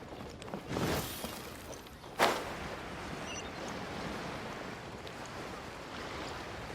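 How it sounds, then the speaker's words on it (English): Ocean waves wash steadily against a harbor in the video game Genshin Impact, a continuous surf hiss with a louder splash early on and a quick surge just after two seconds. "The sound of the waves in this familiar port."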